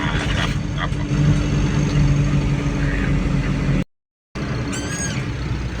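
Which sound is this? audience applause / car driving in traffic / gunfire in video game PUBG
car driving in traffic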